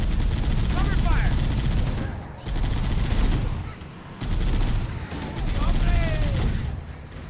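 Sustained gunfire on the beach assault in Halo CE Anniversary, rapid rifle bursts that rise and fall in waves with brief lulls, mixed with soldiers' shouted voices.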